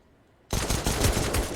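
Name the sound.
pistol gunfire in Counter-Strike video game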